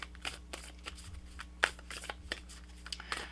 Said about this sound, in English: let's pull you some additional guidance cards for Sagittarius